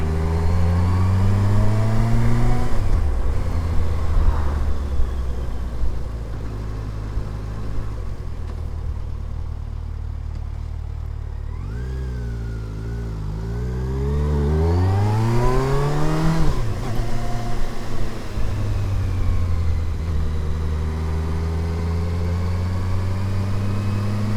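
A car engine labours up a steep slope in low gear, its loud, steady drone rising and falling in pitch as the revs climb and ease off, continuous throughout with no talking.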